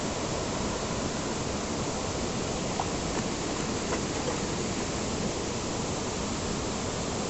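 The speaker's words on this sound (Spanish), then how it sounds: "la cascada es esa que se ve hasta allá" The waterfall at Paraíso Escondido in Berriozábal, Chiapas, roars as a steady, even wash of rushing water with no pauses and no talking.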